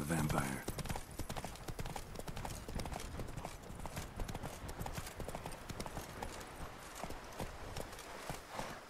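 Roach, a horse in The Witcher 3, galloping with rapid, loud hoofbeats that continue throughout under game sounds, with a voice talking at the start.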